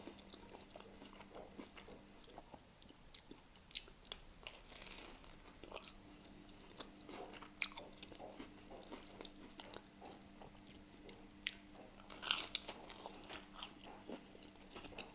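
Someone eats pea and ham hock soup with grilled cheese close to the mic: quiet, steady chewing and biting with scattered crunchy bites and small scrapes, no talking.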